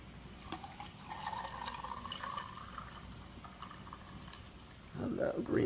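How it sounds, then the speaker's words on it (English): Green tea poured into a glass, a steady liquid trickle with light drips, fairly quiet, followed by a louder burst of handling noise near the end. "Pour me a glass of this"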